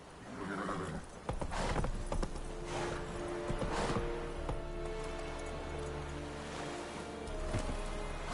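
A horse gallops in The Witcher, hooves pounding in quick, even clip-clops close by, with a whinny and rushing wind-like ambience behind them.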